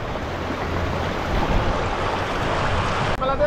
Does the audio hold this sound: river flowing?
yes